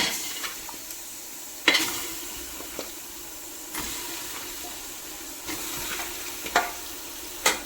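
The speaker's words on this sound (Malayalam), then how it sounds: "ഇനി നമുക്ക് ചിക്കൻ ഇട്ട് കൊടുക്കാം" Chicken pieces added to a pan with cut tomatoes sizzle and fry in a steady hiss, with occasional clinks and stirring scrapes of utensils against the pan, close up and with no talking.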